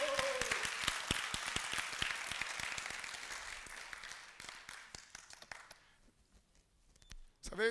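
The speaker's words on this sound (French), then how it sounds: "Applaudissez à la gloire de Dieu." A church congregation applauds, a brisk burst of many hands clapping that thins out and fades after several seconds, ending with a brief voice.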